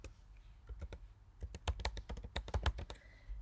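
Someone types on a computer keyboard, a close, brisk run of sharp key clicks with a few scattered taps first and then a denser burst of keystrokes, with no voices.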